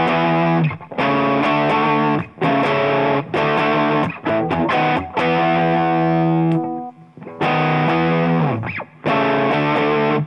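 Electric guitar through a germanium Rangemaster-style treble booster pedal, boost fully up, plays loud chords and sustained notes with a bright, boosted treble tone, short pauses between phrases and a bending note near the end.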